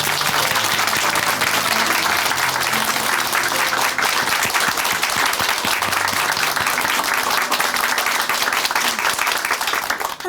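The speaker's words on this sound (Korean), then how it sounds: "박수로 응원해 드리겠습니다" A church congregation claps in warm, continuous applause for a newly affirmed minister, loud and even for about ten seconds, with faint music tones beneath.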